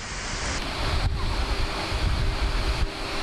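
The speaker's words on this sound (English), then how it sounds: "This is the Skullabas waterfall." Skullabas waterfall heard up close as a loud, steady roar of crashing water, with gusts of wind buffeting the microphone and no voices.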